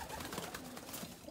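Racing pigeons, young birds bought from breeders, coo softly and steadily under a faint, noisy background.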